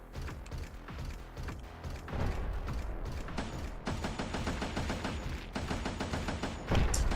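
An upgraded autocannon on an underwater mech in Codename: Oceankeeper fires in rapid, rattling bursts, a dense mechanical stutter of shots that intensifies midway and ends with a heavier blast.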